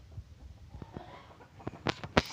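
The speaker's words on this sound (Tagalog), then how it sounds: "Marami kaming alagang manok dito, guys." Scattered soft clucks from chickens, growing louder and sharper toward the end with a few abrupt squawks close by.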